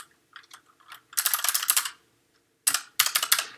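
JavaScript code typed on a computer keyboard: a few light, scattered taps, then two dense bursts of quick keystrokes separated by a brief silence, close and clear with no talking.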